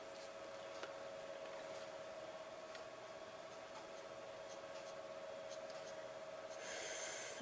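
Pen strokes scratching across a greeting card during coloring, a faint, steady rubbing with a few soft ticks, quiet and close over a constant low hum, with no talking.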